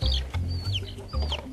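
A young hen clucks in a farm chicken yard, giving a few short close-up clucks and low throaty calls over a steady low rumble.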